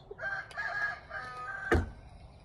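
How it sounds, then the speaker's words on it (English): A neighbor's rooster crowing once, a drawn-out call at moderate distance, closed by a short sharp knock or thump near the end, with no talk. "It's the rooster. Neighbor's rooster. And there goes mine."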